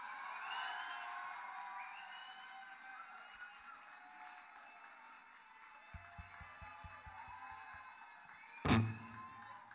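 A concert crowd at a tribute show cheers, whoops and applauds from a distance, with the sustained roar fading slightly and a sharp nearby shout near the end.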